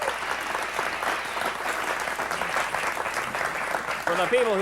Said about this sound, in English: Let's have a big round of applause for the people